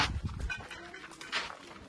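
A dog pants and whimpers close by, short breathy bursts with a faint whine, a little low rustling underneath.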